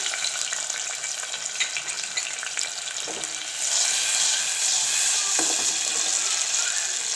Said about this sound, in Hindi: वही ऑयल है मेरे पास, मैंने इसमें डाल दिए टमाटर।